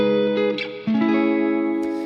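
Electric guitar playing a chord progression with an A bass note under the chord; two sustained strummed chords ring out alone, the second entering after a brief dip.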